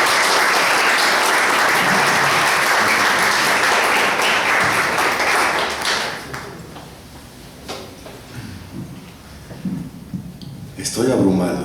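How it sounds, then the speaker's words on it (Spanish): Loud applause from an audience at a book presentation, a dense roar of clapping that holds for about six seconds, then dies down to scattered claps and room noise before a brief swell near the end. "Recibámoslo con un fuerte aplauso"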